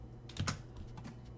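Short burst of typing on a computer keyboard, a few close key clicks clustered together over a faint steady background hum.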